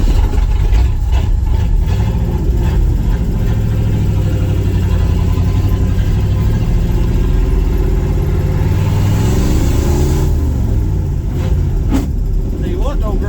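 An old 1971 Ford F100 pickup with an FE 360 V8, abandoned for 39 years, runs with a steady, rough engine rumble throughout, rising briefly as it revs. People speak over the noise.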